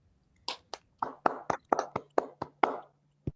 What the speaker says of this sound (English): A round of applause for him, please. Please clap for him.